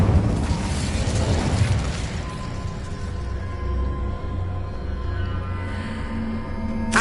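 In Hogwarts Legacy, the Incendio fire spell goes off with a bursting whoosh and crackle at the start, then settles into a quieter mechanical rumble with a faint ringing tone.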